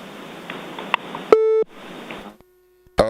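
A dropped call-in line on a Grenada morning radio show cuts out, leaving a steady flat tone and a sharp beep between bursts of line noise, with a low hum lingering before a final click.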